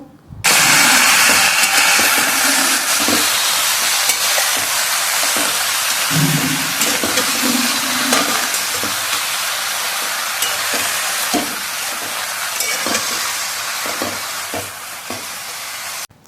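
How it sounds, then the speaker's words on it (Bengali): Water lily stems fry loudly in hot oil with garlic and chilli, a steady, close sizzle running the whole time. A spatula scrapes and stirs through it now and then, and nobody speaks. "এই যে শাপলাটা দিয়ে দিলাম এরপর নড়াচড়া করবো"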